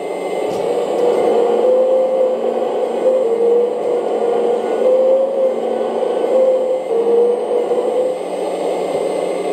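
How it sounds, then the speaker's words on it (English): A HUINA Kabolite 1/14 hydraulic RC excavator (K970-100S) runs its pump and simulated engine sound, a loud steady droning hum with a slowly wavering pitch, alone without talk. "Start the pump, let's hear the engine sound."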